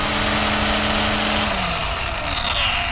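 A Stihl FSA 57 battery string trimmer runs close by, a steady whirring drone mostly from the line spinning through the air, with a brief rise and fall in pitch midway.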